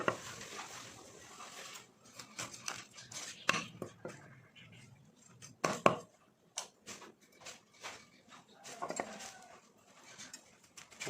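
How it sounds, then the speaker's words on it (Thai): Quiet, irregular knife taps on a cutting board as fish is cut into pieces, clustered in short runs with gaps between, faint and close with no talking. "เราก็จะหั่นเป็นชิ้นๆ"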